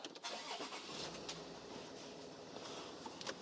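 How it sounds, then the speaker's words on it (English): Land Rover Discovery 4 engine starting: a quiet crank and catch settling into a low idle, recorded faintly from inside the vehicle, with no talking. "The next step we will do is we will turn on the engine"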